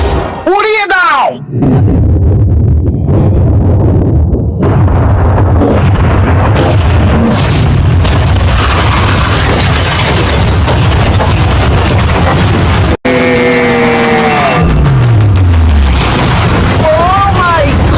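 A yacht is blown up: a deep booming explosion rumbles loudly near the start, followed by continuous roaring noise with excited voices talking and shouting over it.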